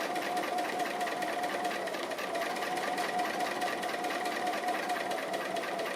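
Domestic sewing machine stitching fused appliqué fabric, a steady fast mechanical whir running continuously and close, with no speech over it.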